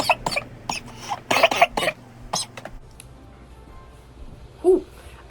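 Several sharp, close coughs burst out in quick succession after a hit from a blueberry distillate vape cart, followed by quieter breathing and one more cough near the end.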